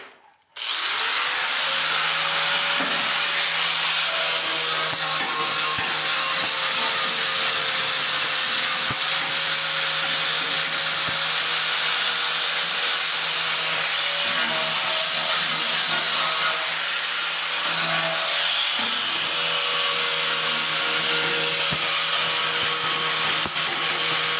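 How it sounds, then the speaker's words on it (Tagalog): Welded joints on steel angle bar are cleaned with a power tool, probably a grinder, for a stair build. It gives a loud, continuous abrasive whine and rasp with no break and a steady hum underneath. "pwede na nating linisin ng konti guys yung mga pinaghinangan"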